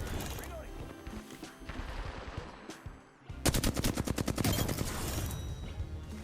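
Flatline assault rifle firing in Apex Legends arena combat, first mixed shots under game noise, then a loud rapid string of evenly spaced automatic rounds.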